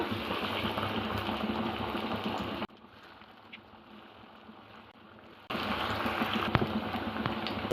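Steady crackling sizzle of soya meal maker nuggets deep frying in hot oil, loud and continuous, dropping quieter for a few seconds in the middle before returning.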